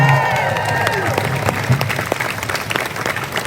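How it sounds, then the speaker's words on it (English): A crowd at an outdoor trans visibility march applauds and cheers, dense clapping with whoops and scattered voices rising over a steady background, fairly close and loud throughout. "Give a big round of applause to Lindsay Andrews doing a great job today."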